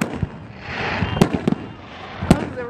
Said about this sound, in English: Those are the real firecrackers.